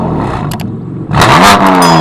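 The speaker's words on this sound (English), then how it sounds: "let's get a couple revs of the exhaust" BMW M4 engine revving in sport mode, a steady idle rumble that swells into a loud, rising exhaust rev near the mic after about one second, holding a strong roar to the end.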